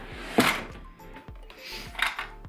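Someone pulls at an overstuffed makeup drawer packed with palettes. It gives two sharp rattling scrapes with dull wooden thunks around them, fairly close and loud.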